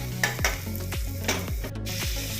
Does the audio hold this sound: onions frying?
yes